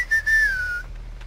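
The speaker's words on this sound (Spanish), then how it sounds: "¿A qué te ha gustado, Víctor, el silbidito?" A single clear whistle in Dead by Daylight, one sustained note sliding gently downward for under a second, close and alone over a low hum.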